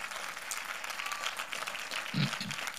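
Church congregation applauding in a broad, steady wash of clapping that fills the hall at moderate loudness, with a couple of brief low thumps near the end.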